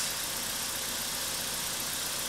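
A BMW N42/N46 engine idling on a support bar after a timing chain replacement, giving a loud, continuous, even mechanical hum with faint rattle and no voices.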